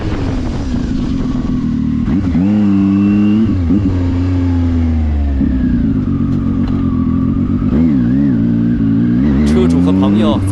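Zontes 703F three-cylinder motorcycle engine revving hard, loud and close, with rising and falling pitch sweeps through repeated throttle blips over about ten seconds.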